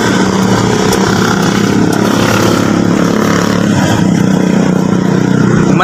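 A Mitsubishi Adventure gasoline engine runs steadily and loudly up close, with a continuous low rumble and buzzing drone that holds an even level throughout, and no voices.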